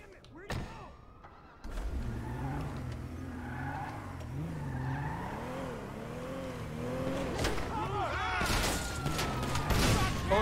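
A car pulls away in the video game GTA Online, its engine revving and rising in pitch with some skidding and thumps, loud and close, while voices talk over it.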